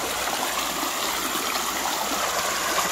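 Swollen creek water rushes steadily close by, a dense, continuous broadband roar of flowing water with no pauses or voices.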